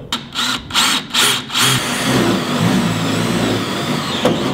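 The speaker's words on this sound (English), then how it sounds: "So now that we have these two holes drilled out" A power drill bores holes in the bed of a Toyota Tundra truck while fitting bed channel stiffeners: several short loud pulses of whirring, then a sustained high-pitched grinding drone close by.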